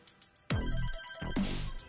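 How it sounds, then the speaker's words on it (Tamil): An incoming-call phone ringtone plays loudly and close, a bright tonal melody in repeated bursts after a few soft lead-in tones, heard alone without speech. "அப்பா, உங்களுக்கு ஃபோன் வந்திருக்கு."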